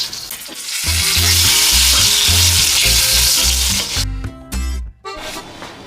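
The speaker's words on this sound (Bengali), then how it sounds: "আর সাথে বেগুন ভাজা" Eggplant slices frying in a pan, a loud, close, continuous sizzle with rhythmic low scraping strokes that breaks into choppy bursts near the end.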